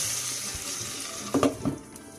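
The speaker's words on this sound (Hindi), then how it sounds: "तो मैंने ये पैन का लिड अपने सामने कर लिया था और बघार डाल" Hot tempering poured into chicken kadhi, a low steady background hiss that bursts into a few sharp, close sizzling crackles near the end before settling back down.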